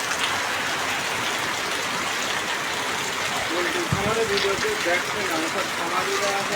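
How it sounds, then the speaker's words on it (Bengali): Heavy rain falls steadily on a Bangladeshi village, a dense constant wash of droplets with a short thump midway and faint voice-like sounds toward the end. "প্রচণ্ড বৃষ্টি হচ্ছে"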